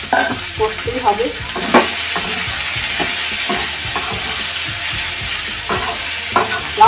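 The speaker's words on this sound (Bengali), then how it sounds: "লাউ অল্প সামান্য কষতেই হবে" Bottle gourd (lau) sizzles steadily as it is sautéed in a pan, with a constant frying hiss under repeated scrapes and knocks of a spatula stirring.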